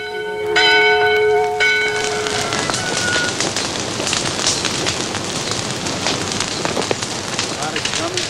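A church bell in a steeple beside a churchyard strikes twice near the start, its ringing tones lingering and fading, before steady crackling, rain-like noise takes over for the rest.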